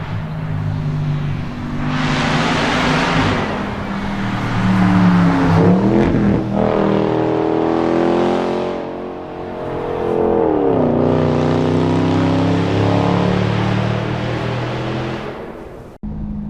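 A 2020 C8 Corvette fitted with a Fabspeed Valvetronic exhaust, heard from inside the car: loud revving that climbs and falls through several surges of acceleration, with a rising whine between pulls.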